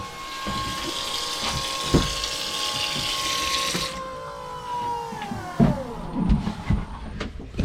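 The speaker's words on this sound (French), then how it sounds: "Ça pompe là-bas." Water pump aboard a boat running steadily with a hum and rushing flow, its pitch dropping midway as the flow changes, with a few knocks and clunks near the end.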